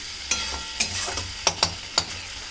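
Spiced eel fish curry fries in a pan under a steady close sizzle, with sharp spatula scrapes and taps at uneven intervals as the pieces are stirred.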